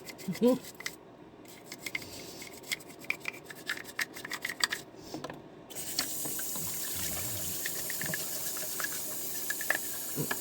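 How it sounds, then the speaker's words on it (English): A brush scrubs dentures in quick, irregular strokes near running water, followed by a steady flow from a tap that continues alongside the scrubbing. "Scrub my teeth, scrub them all day long."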